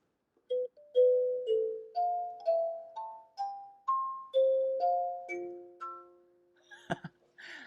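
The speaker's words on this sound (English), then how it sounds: "It's called a kalimba, and it makes really beautiful sounds like this." Plucked metal tines ring out one by one in a gentle rising and falling melody, each note chiming and fading, ending with a soft clatter.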